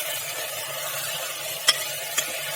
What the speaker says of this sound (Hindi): आधा मिनट तक इसको चलाएंगे गैस पर और फिर आखिर में सारे मसाले भी डाल देंगे